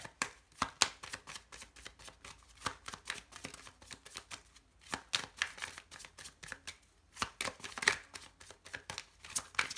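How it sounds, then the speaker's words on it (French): Tarot cards are shuffled by hand in quick, repeated bursts of crisp riffling and slapping, close and fairly quiet, with short pauses between rounds. "Je remets mes cartes."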